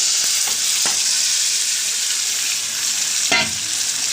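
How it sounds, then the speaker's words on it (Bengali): Marinated chicken for a red chicken kasha sizzles loudly in a hot pan, a dense continuous hiss with a few brief scraping stirs, close up and without talk. "এবার আমি ম্যারিনেট করা মাংসটা দেবো। ম্যারিনেট করা মাংসটা আমাদের ঢেলে দিলাম।"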